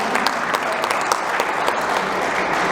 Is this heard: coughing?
no